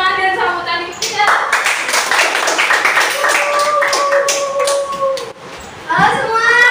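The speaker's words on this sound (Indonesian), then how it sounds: "Mari kita berikan tepuk tangan dan sambutan kita." Students at a junior high school presentation clap for a classmate, with many hands patting in a lively, sustained burst while children chatter and shout over it.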